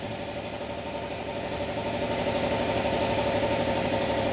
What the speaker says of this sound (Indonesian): Ini dekat kompresor ya, dari berisik.